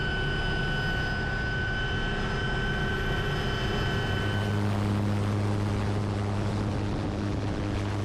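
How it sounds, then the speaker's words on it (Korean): A Kaman K-MAX helicopter with intermeshing twin rotors drones loudly and steadily, its engine and rotor tone shifting about halfway through, with no voices. "이건 바로 KMAX만의 독특한 인터매싱 로터 시스템으로 일반 헬기보다"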